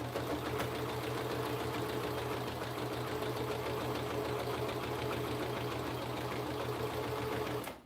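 A Juki MO1000 serger stitches along a fabric edge, its steady rapid needle-and-motor whir running loud and unbroken at close range, with no talk over it.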